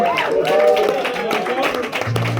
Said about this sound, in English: give a big round of applause to Bob for running the sound tonight